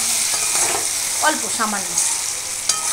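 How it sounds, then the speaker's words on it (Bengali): Paneer sizzles steadily in a hot pan while a utensil stirs it with a few scraping strokes; a brief quiet voice speaks over the frying. "আমি একটু এই সময়টা করে একটু ভেজে নিচ্ছি"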